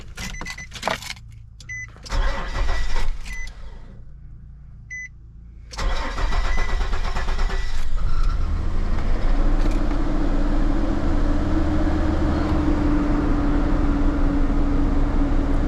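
A 4.0-litre Nissan Pathfinder V6 with freshly replaced valve covers cranks with a few short, stuttering bursts before firing up, then settles into a loud, steady idle that runs on close by without any talk.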